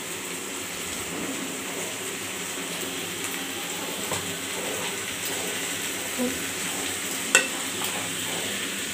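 Ash gourd fries in a pan, a moderate, even sizzle with occasional soft scrapes and one sharp clink of a utensil, heard close.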